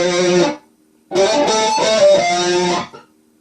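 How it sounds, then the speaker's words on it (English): Electric guitar plays a short spacer lick from a solo: one held note, a brief gap, then a sliding, sustained phrase that fades, loud and close with no talking. "then there's a little spacer lick that kind of sounds like this"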